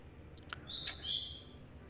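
A pet bird screeches a few times in the background: sharp, shrill calls that rise in the middle of the clip, fairly faint against a quiet room, with no speech.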